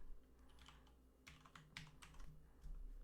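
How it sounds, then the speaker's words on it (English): Typing on a computer keyboard during a live-streamed developer Q&A, with close, quick clusters of key clicks tapping irregularly over a steady low hum. "I'm typing in my"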